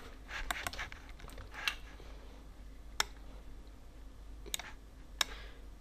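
Mouse clicks at a computer running 3ds Max, a handful of sharp, isolated ticks at irregular intervals over faint room hiss, close and quiet, with no talking.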